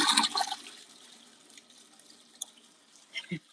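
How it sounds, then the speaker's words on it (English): Water sloshes and splashes inside an LG ThinQ MEGA Ultimate washer during an auto rinse: a fuller splashy burst at the start, then softer churning, with a couple of dull knocks near the end. "that was a big splash"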